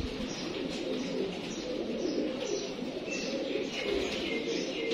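Teddy pigeons coo softly and continuously in the background, a low murmuring chorus with faint chirps above it.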